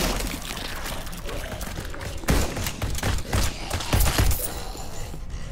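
Rapid gunfire from a machine gun in a zombie tower defense shooter game, dense bursts of sharp reports over a busy, noisy game mix with heavier thumps near the middle and end.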